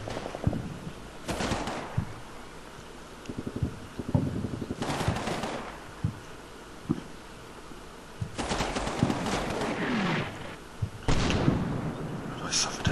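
Repeated bursts of small-arms and machine-gun fire in the video game Combat Mission: Battle for Normandy, loud clustered volleys with sharp single shots between them and a brief voice in the mix.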